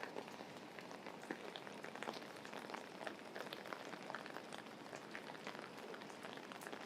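Steady rain falls on a downtown Singapore street by the riverside at Boat Quay, a soft, even patter and hiss with scattered drips, faint and continuous with no voices.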